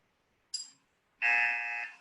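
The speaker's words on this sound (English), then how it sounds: "I'll indicate via buzzer" A meeting timer buzzer pressed once gives one loud, steady electric buzz lasting under a second, after a brief high chirp moments earlier, in an otherwise quiet room.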